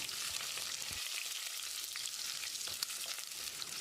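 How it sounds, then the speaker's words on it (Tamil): Steady, close hissing and crackling of chilies, curry leaves and ginger frying in hot oil, with a few faint clicks of stirring. "இதையும் போட்டு ஒரு 10 செகண்ட் ஃப்ரை பண்ணி விட்டுடலாம்."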